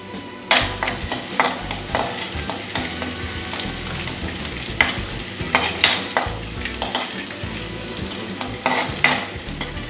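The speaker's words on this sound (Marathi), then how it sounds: "हे 2 मीडियम साईजचे कांदे मी कापून घेतलेले। हे आपण फ्राय करून घेऊया।" Two medium sliced onions fry in oil in a kadhai for potato manchurian, a steady close sizzle broken by repeated scraping stirs at an uneven rhythm, with no talk.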